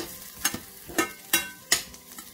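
Onion, mustard seeds, fennel, fenugreek and garlic fry in hot oil for an okra curry, giving a steady sizzle broken by four or five sharp scraping stirs of a spoon in the pan, close and clear.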